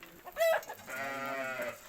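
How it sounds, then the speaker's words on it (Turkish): Roosters belonging to a man named Salih, kept penned on a farm, give a crowing call that swells into a sustained harmonic cry of about a second, close by and fairly loud. "Arkadaşlar gördüğünüz gibi Salih'in horozları."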